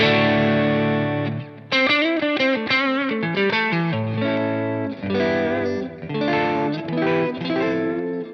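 An electric guitar plays chords and short riffs through a Klon Centaur overdrive pedal into a clean amp, gritty but fairly clean, slightly boxy, with brief pauses between phrases.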